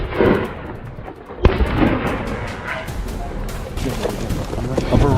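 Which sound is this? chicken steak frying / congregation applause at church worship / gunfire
gunfire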